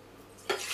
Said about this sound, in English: I fill up my flask here so I know exactly how much I'm boiling